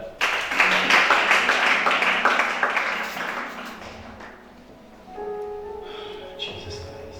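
A church congregation at a service in Gabon applauds with fast, dense, loud clapping that fades over several seconds, followed by a quieter stretch with organ-like tones.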